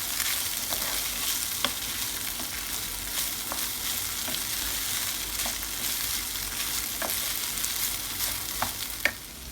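Baldo rice toasting in oil in a pan, a steady close sizzle broken by occasional clicks and scrapes as it is stirred.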